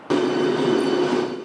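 An O-Train light rail car stalled near Lees Station after damaged overhead wires sent sparks flying: a sudden loud, steady rumbling hiss starts abruptly and holds, close and noisy.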